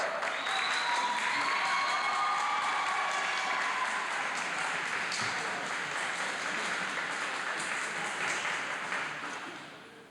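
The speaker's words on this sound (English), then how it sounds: "And a big applause by the East fans" East fans applaud at a 1989 West v. East boys' gymnastics meet as a gymnast finishes his side horse exercise: a loud, dense, sustained crowd clapping that holds steady and then tapers off near the end.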